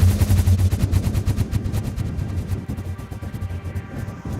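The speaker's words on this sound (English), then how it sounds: "Now, we will try this cannon once more again." A hyper cannon in the Satisfactory video game fires in a loud, rapid string of sharp, repeated bursts that run without pause for several seconds and ease off slightly toward the end.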